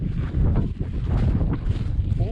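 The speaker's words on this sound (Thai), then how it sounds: "ลมโคตรแหงเลย" Strong, gusty wind roars across the mountain summit at the highest peak in Bokeo province, Laos, buffeting the microphone continuously with rumbling surges and a voice faintly heard amid it.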